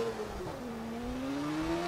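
Car engine in the video game Watch Dogs, a steady buzzing drone with rising revs, heard alone and fairly close, with no talk over it.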